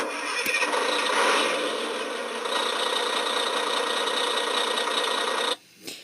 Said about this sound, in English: the truck starting, and that's my favorite on all Hess trucks because I love the key starting